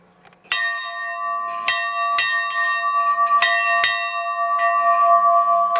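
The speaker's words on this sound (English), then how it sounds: "We sport a authentic school bell, a bell that was in the Brookside School just east of New Knoxville." An authentic old school bell from a country schoolhouse, now kept at a farm barn in New Knoxville, Ohio, rings out loud and clear, struck about five times with a sustained ringing tone that hangs between strokes.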